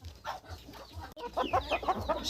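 Soft high chirps and peeps from newly hatched chicken chicks, repeated in quick bursts close by, with a low background hum.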